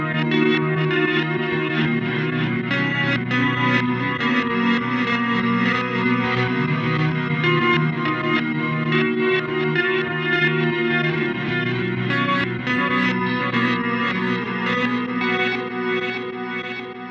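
An electric guitar played through an echo pedal set to reverse delay, with swelling, backward-sounding repeats and chorus-like shimmer washing over the notes, loud and continuous with no talk.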